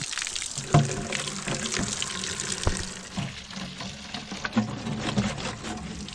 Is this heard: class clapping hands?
no